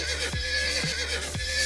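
A horse in a video game neighs and whinnies in a few quick, loud, close bursts over a steady background.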